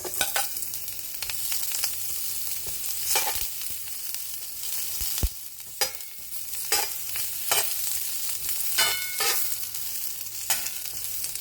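Onions sizzle in hot chicken oil in a home kitchen pan, a steady crackling fry punctuated by repeated scraping stirs and clinks of a utensil against the pan.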